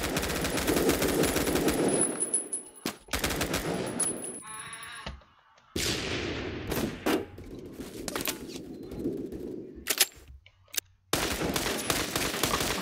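Rapid automatic gunfire in the Phantom Forces video game rattles in loud close bursts, with single shots and brief silent gaps between volleys.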